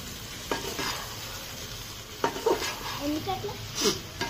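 A spoon stirs a curry in a pot that sizzles quietly underneath. A few scraping strokes stand out clearly, and there are faint background sounds.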